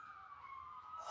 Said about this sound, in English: Oh, can you hear that? It's sirens.